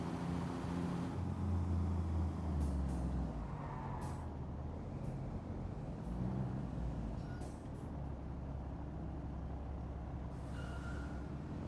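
A small crane truck in a construction simulator, with a low engine rumble under sharp hissing bursts of air brakes that repeat at uneven intervals.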